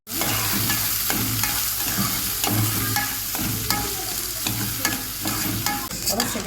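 Rice fries in oil and butter in a pan, a steady, loud, close sizzle that runs the whole time with faint stirring scrapes and clicks mixed in, with no voices.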